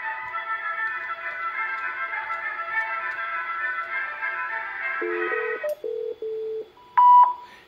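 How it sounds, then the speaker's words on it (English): Touch-tone dialing into a Viking PA paging unit: a short run of distinct DTMF beeps, close and clear, following a steady background hum and ending with a higher confirmation tone. "So now we're going to go ahead and dial the phone number to the paging unit."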